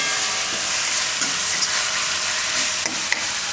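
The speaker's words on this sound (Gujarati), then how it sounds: "અને તેલમાં પાકવા દઉં થોડીક વાર." Ingredients cooking in hot oil for a Gujarati dahi mirchi rice, a steady broadband sizzle and crackle running unbroken throughout at a close, even level, with a few faint clicks and no voices.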